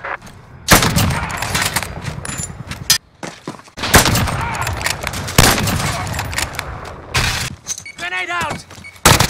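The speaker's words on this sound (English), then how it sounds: "we're taking fire" Rapid gunfire in Call of Duty Modern Warfare, with loud overlapping bursts and volleys repeating across the clip and voices talking over the shooting.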